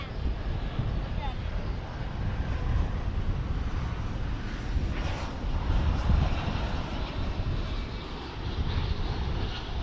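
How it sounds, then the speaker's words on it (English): A Lufthansa Airbus A340 airliner comes in to land, its engines a broad steady roar with wind rumble that holds at a fairly even level throughout, heard from a distance outdoors. "Lufthansa's A340."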